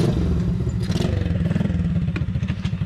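A 190cc restomod Honda CT70 Trail 70 motorcycle with a 19 hp engine pulls away close by, its small single-cylinder engine chattering loudly and steadily, with a brief rise in revs and some clatter.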